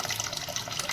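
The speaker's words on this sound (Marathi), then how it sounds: "आपण स्वच्छ तांदूळ आता धुवून घेऊया" Water runs and splashes over rice being washed in a kitchen, a brief, close, steady watery rush with no talking.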